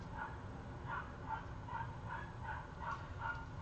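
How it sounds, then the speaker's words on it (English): A neighbor's puppy yips and barks in a series of short, fairly faint calls from some distance, roughly one every half second over a steady background hum. "do you hear my neighbor has a puppy?"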